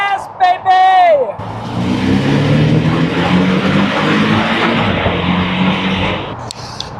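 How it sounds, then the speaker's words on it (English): A Porsche 718 Boxster GTS with a turbocharged flat-four engine pulls hard from inside the cabin, a loud, gravelly, rising drone that sustains for several seconds, with a voice shouting briefly at the start. "They got the sound right on a turbocharged flat 4. It sounds great."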